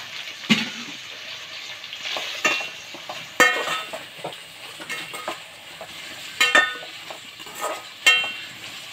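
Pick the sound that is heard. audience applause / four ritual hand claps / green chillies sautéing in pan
green chillies sautéing in pan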